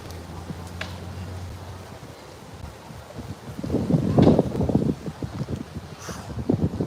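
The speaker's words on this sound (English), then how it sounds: "This wind is really pissing me off though" Strong wind buffeting an outdoor microphone, a steady low rumble that swells into loud, gusty blasts in the second half.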